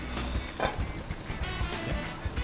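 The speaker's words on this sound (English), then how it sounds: "Start with a pan, a little bit of olive oil, some onions, more like a lot of onions. Just saute that just a little bit." Onions sauté in olive oil in a pan, a soft, steady sizzle with a few light clicks and shuffles of stirring over a short stretch.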